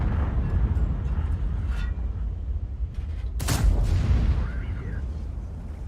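A single sharp cannon blast from a BZ-75 tank in a tank video game cracks out mid-clip over constant low rumble of game engine noise, with a brief echoing tail.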